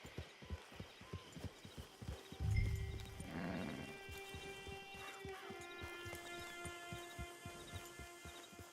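Horse hooves in the video game Red Dead Redemption 2, thudding in a steady, even rhythm, quiet and close, joined partway through by a brief louder whoosh and sustained tonal music-like hums.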